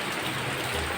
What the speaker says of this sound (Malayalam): അവിടെ വെള്ളം വീഴുന്നുണ്ട് കേട്ടോ താഴെ.